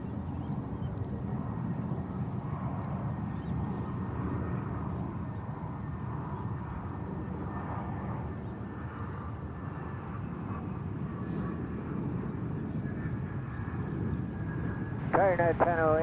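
An Airbus A319 airliner landing at San Francisco International Airport gives a low, steady engine rumble at a distance, while air traffic control radio chatter runs over it.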